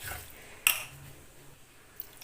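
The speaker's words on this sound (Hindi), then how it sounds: "और इसमें थोड़ा सा ना पानी भी ऐड करूँगी मैं अभी" Water is poured into a bread pizza mixture in a home kitchen, a soft liquid splash with a brief clink of a utensil or dish.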